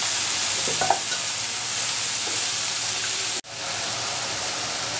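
Water lily stems fry with green chillies and a little turmeric, a loud, steady close-up sizzle with a few stirring scrapes. The sizzle drops out sharply for an instant as the pan is moved, then hisses on.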